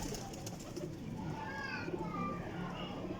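Pigeons in a flying loft coo in soft, repeated calls, close by and steady, while someone talks over them.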